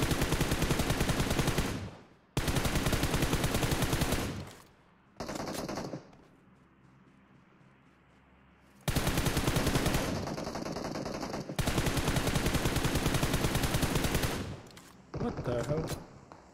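Loud bursts of automatic gunfire in a video game, several long sustained volleys separated by short pauses and a quieter stretch, with no talking.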